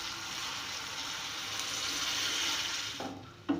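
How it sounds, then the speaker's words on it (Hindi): Water poured from a glass into a pot of carrots and potatoes cooking for aloo gajar sabzi, a steady close splashing hiss running for a few seconds and ending with a couple of light knocks. "अब मैं इसमें 1 गिलास पानी डाल दूँगी"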